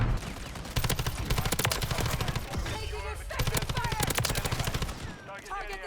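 Kastov LSW light machine gun in Modern Warfare III multiplayer, firing in long rapid bursts of loud, close automatic shots with short pauses between, and a voice talking briefly during a gap.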